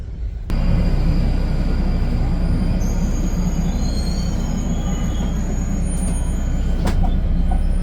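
A London Underground tube train rumbles loudly and steadily at close range, with high metallic wheel squeals sliding in partway through and a sharp clank near the end; no talking.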